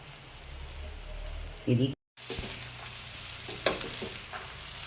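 Soybean sprouts hiss and crackle in a hot pan for soya sprouts rice, a steady sizzle broken by a brief clatter and a short cut to silence, with one quiet spoken word.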